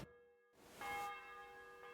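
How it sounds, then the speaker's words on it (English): A church bell rings in Kingdom Come: Deliverance II, a single clear strike with a bright metallic tone that rings on and decays, faintly heard after a brief moment of near silence. "The bell's ringing for Hans the 5th time."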